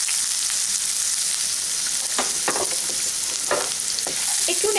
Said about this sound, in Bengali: এখন এই বাদবাকি তেলটার মধ্যে আমি দিয়ে দিলাম প্রায় 7 থেকে 8 কোয়া কুচানো রসুন, দিয়ে দিচ্ছি 1/2 চা চামচ মতো আদা কুচি